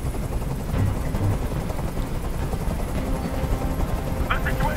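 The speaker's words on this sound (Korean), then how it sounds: "헬기 보내주고" A helicopter in the video game Detroit: Become Human produces a loud, continuous rumbling drone throughout, with a voice talking over it.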